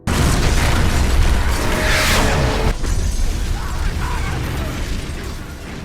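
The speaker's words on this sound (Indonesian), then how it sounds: "Akibat ledakan tersebut" A loud explosion from a bomb on a bridge in an action film roars and rumbles for several seconds, with crackling debris and a heavy, sustained low boom slowly fading.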